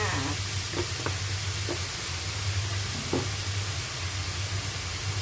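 Pork stir-frying in a pan with chili and sauce added, a steady loud sizzle with occasional clinks of a utensil against the pan, no talking.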